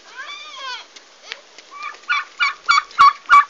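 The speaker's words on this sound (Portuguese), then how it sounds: "Peru e pato." Farm poultry calling near the mic: a turkey's rapid gobbling and duck quacks, first wavering calls then a run of five loud, evenly spaced honking bursts toward the end.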